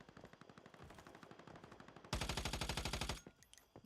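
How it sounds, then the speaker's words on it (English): Video game gunfire from automatic rifles, first a steady rattle of rapid shots, then a louder, denser burst of rapid fire with sharp impacts for about a second before it cuts off, with scattered quieter shots after. "Every time I hear the bullets hit the ground with these guns"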